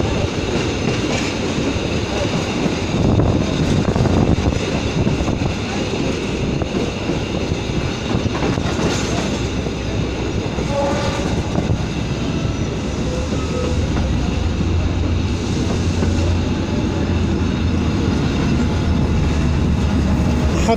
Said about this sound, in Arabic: محطة قطارات المنصورة اليوم الأربعاء